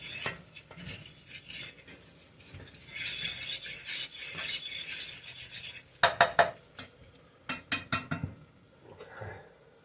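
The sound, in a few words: scraping a pan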